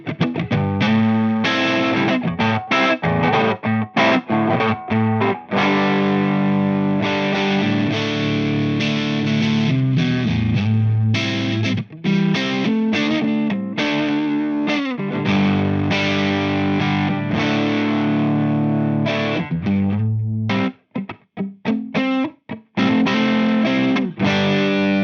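Electric guitar through a Two Notes Torpedo Captor X, with its front voicing switch being changed while playing, sounds as a continuous loud distorted riff of chords and notes, briefly dropping out near the end before resuming.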